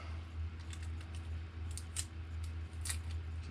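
Small scissors make quick, light snips trimming material off an E-Flite UMX Radian model plane, a close series of crisp cuts over a steady low hum.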